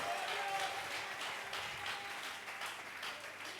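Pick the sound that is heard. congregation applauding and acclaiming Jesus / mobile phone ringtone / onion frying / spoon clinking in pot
congregation applauding and acclaiming Jesus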